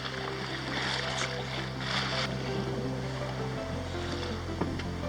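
Sailboat underway at night on a calm ocean off the way to Florida, with a low steady hum and soft rushing water and wind noise, fairly faint, shifting pitch partway through; no talking.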